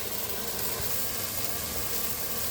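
Fish curry with tomato and potato sautéing in a large pot, giving a dense, continuous hiss and sizzle at steady volume with no voices.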